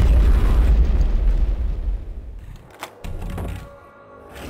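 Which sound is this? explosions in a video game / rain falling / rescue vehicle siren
explosions in a video game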